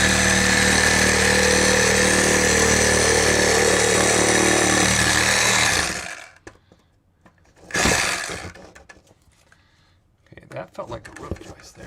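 A saw blade cuts through an attic ceiling beside an AC pipe, making a loud, close, continuous buzzing rasp for about six seconds before it stops. One short burst follows, and then a voice speaks amid faint handling noise.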